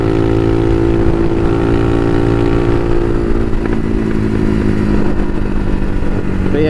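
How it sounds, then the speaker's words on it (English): Loud, continuous engine drone of a Bashan Motomax 250 supermoto motorcycle ridden at night, with the pitch easing down partway through as the rider shifts or rolls off the throttle. "do like how this bike sounds too"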